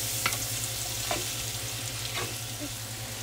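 Vegetables sizzle and fry steadily in a pot after venison steaks are seared, a constant close hiss with a low hum beneath and a few faint clinks of stirring.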